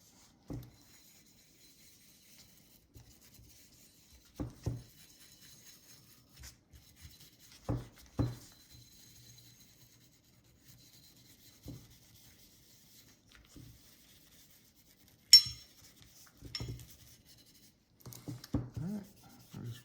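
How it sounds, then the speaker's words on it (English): A cleaning patch rubbed over a custom pistol part, faint scattered scratchy wiping strokes in short irregular bursts against near silence. "Wipe it down with a patch."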